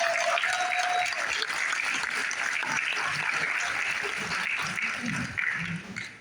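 Gathering honouring Captain Marcel Berry and his wife breaks into sustained applause, a dense, even wash of clapping with a brief tonal sound near the start.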